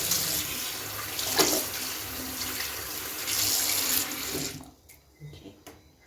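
Tap water runs steadily into a sink during handwashing at the start of a night-time skincare routine, a continuous close splashing hiss with small shifts, before it stops and a few faint drips and bumps follow.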